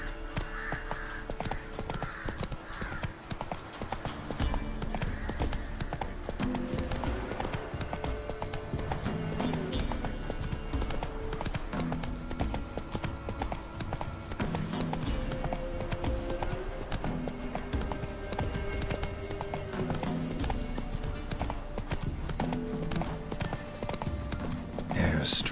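Hooves of the horse Roach gallop steadily in The Witcher 3, a continuous rhythmic clip-clop close by, with voices talking over it and a horse whinny near the start.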